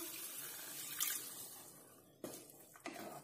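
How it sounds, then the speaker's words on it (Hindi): Half a cup of water poured into a simmering sev tamatar curry in a home kitchen, a soft steady splash and trickle followed by a couple of brief clinks near the end, no talking. "यहाँ पर मैं 1/2 कप पानी ऐड करती हूँ।"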